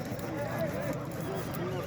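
A horse neighs amid the steady roar of a crowd at an Urgut Beshkapa kopkari (uloq) horseback game, with the call rising briefly over continuous background noise.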